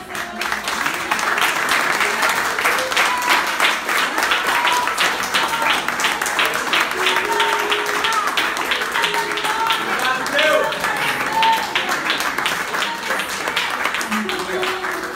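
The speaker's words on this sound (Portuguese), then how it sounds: "Então eu quero convidar você a aplaudir o Senhor." A church congregation applauds at a worship service, steady dense clapping sustained throughout with musical tones and voices mixed in beneath.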